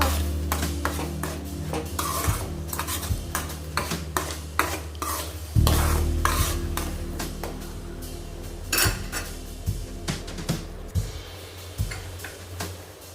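Sago kesari with sugar and cardamom being stirred in a metal pan, a spoon repeatedly scraping and clinking against the pan in an irregular rhythm, close and fairly loud, with a steady low hum underneath and no talk.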